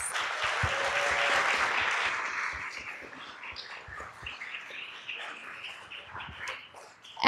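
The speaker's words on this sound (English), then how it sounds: "Another round of applause." Applause from the audience at a health policy summit, loud at first and gradually thinning to scattered claps, with a few distinct handclaps close by and a stray voice or chirp in the room.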